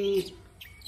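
A mountain cendet, the long-tailed shrike, gives a short clear chirp followed by fainter high twittering, brief and moderately close.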